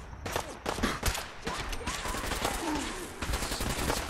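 Super mutants fire laser guns in the VR game Fallout 4 Far Harbor, a dense string of sharp crackling shots and bursts, loud and close, running steadily throughout with a busy battle mix behind.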